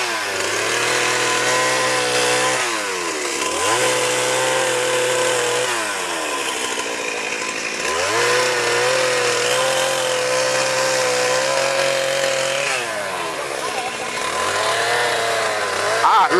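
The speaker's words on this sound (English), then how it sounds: "Obviously, a chainsaw is working at a very high speed, so it creates heat." A chainsaw cuts through rhino horn during a dehorning, its engine droning loud and steady with repeated dips and rises in pitch as the blade bites, while voices talk faintly underneath.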